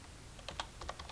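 A short run of close keystrokes on a computer keyboard as a terminal command is entered on a Raspberry Pi, a handful of crisp taps over a faint background hiss.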